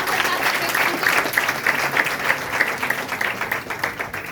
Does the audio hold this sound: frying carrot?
no